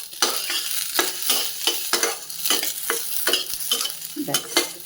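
Flattened rice stir-fried in a pan with onion, carrot and soaked chickpeas, with a spatula scraping in quick, regular strokes over a constant low sizzle. No one speaks.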